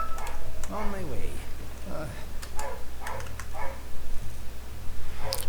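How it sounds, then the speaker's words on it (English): A dog barks a few times in the background, fairly faint, beneath a person talking over steady room noise. "Sorry if you can hear the dog in the background again"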